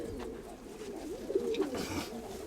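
A pigeon coos softly nearby, a low throaty warbling call rising and falling over a quiet background.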